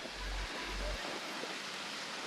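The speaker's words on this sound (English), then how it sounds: "There's a little tiny waterfall there." A small waterfall on a forest walking track in the Bunya Mountains, a steady broadband rush of falling water, close and continuous, with no other sound over it.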